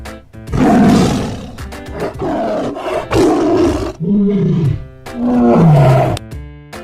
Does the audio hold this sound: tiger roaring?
yes